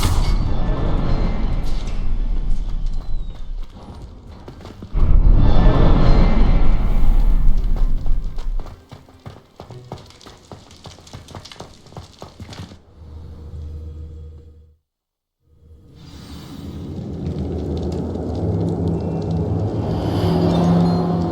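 In Hogwarts Legacy, Confringo fire spells blast with loud booming bursts, then quieter crackling and mechanical game noises that fade to near silence before the ambience returns.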